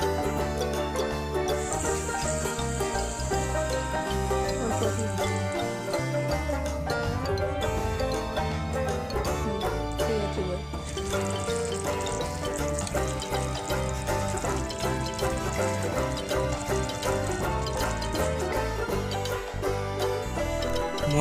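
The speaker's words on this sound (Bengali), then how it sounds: "এইবার জলটা দিয়ে দেব।" Water pours into a small toy cooking pot during pretend play-cooking, a continuous splashing, gurgling stream that stays loud and steady for about twenty seconds without a break or voices.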